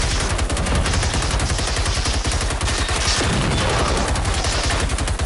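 Rapid, relentless gunfire from a gun in the video game Generation Zero, a loud, dense stream of shots filling the whole stretch without a break, with no talk over it.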